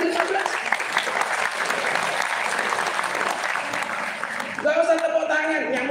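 A school audience claps in a dense, sustained burst of applause that runs for several seconds before thinning out, with a voice speaking over the tail end.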